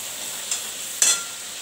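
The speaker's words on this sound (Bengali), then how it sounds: "দিয়ে এটাকে একটু ভালো করে মিডিয়াম ফ্লেমে কষাবো।" Onions sauté in a pan over a medium flame with a steady, bright sizzle, broken by two short stirring scrapes close together, the second louder.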